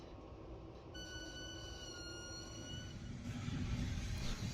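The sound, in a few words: SJ EuroNight train running after departing Stockholm Central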